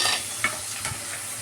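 Fish with red chilli and turmeric powder frying in a pan, a soft steady sizzle with a few faint stirring scrapes, close and fairly quiet, with no talking.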